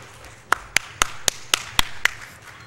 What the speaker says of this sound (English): the crew off camera needs a round of applause